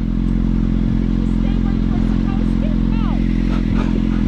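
A steady engine drone dominates throughout, with a motorcycle revving and passing, brief squeaks and clatter on top.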